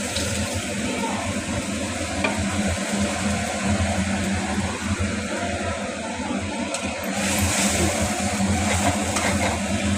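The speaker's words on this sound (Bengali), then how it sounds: "মশলাটা ভালো করে কষিয়ে নিয়ে মশলাটা দিয়ে দিলাম। এবার মশলাটা কষিয়ে ভালো করে কষাতে হবে।" Spice paste of nigella seeds, green chilli and cumin being sautéed with fried potatoes in a pan for a fish-head chorchori, a dense, even sizzle with soft stirring scrapes running throughout.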